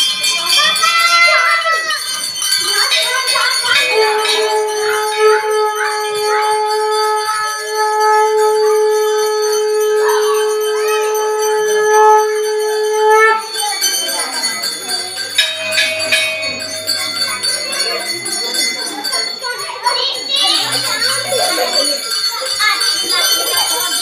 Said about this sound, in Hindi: बजवा दे भाई छोरी ने भी घंटी बजवा दे।